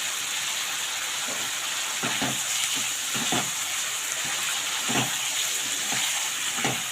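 Egg curry simmering with homemade garam masala and a little water, giving a steady close frying sizzle broken by occasional soft stirring knocks.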